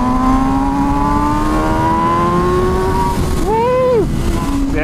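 A motorcycle engine revs hard on an open road, its loud, close, buzzing drone climbing steadily in pitch before a quick rev blip near the end.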